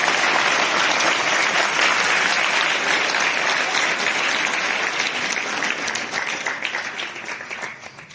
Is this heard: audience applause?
yes